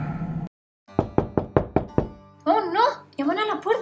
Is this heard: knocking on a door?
yes